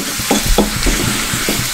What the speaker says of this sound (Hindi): पापड़ लाल पापड़ को फ्राई करने है अभी।